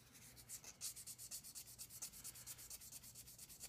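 Bone guitar nut being sanded by hand, a steady run of rhythmic rubbing strokes, roughly four per second, close and fairly quiet with no voices.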